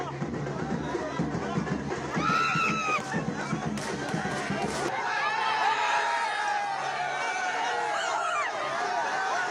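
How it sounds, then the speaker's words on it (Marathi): A crowd celebrating a Maharashtra election victory in 2019, loud massed cheering and shouting with a chanting voice rising above it, continuing as a steady roar of jubilant voices. "विजयाचा जल्लोष करतानाची ही दृश्य बरी बरच काही सांगून जात आहेत"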